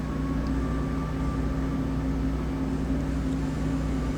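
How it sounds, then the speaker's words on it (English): A small electric motor powered by a homemade crystal battery at about 1.48 volts hums steadily and faintly, a low continuous drone with a faint tonal whine, no talk over it. "Okay, you can hear the motor's running."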